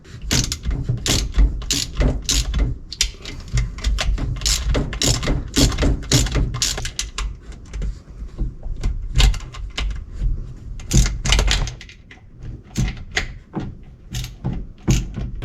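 A ratchet loosening 10mm bolts from a plate on a thirty-year-old jet ski, with loud nearby clicking runs repeated bolt after bolt, interrupted by short gaps and small metallic clatters.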